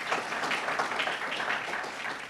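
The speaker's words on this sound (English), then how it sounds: "Let's have a round of applause for their continuing support of programs like this." Applause fills a room at a chamber of commerce legislative reception, a dense, continuous patter of many hands clapping at moderate loudness for a couple of seconds, with no speech over it.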